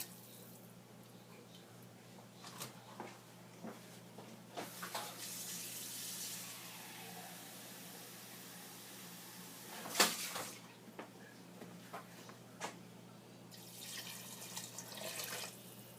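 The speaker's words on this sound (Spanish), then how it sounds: "Pongan un poco más de agua si necesita más." A kitchen tap runs while soup is being cooked, a soft hiss of flowing water with intermittent splashes and clinks, fairly quiet and close.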